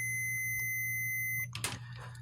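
A multimeter's continuity beep sounds as its probes touch a metal CB or ham radio antenna bracket for a ground test, a steady high tone holding for about a second and a half before cutting off into handling clicks, against a low hum.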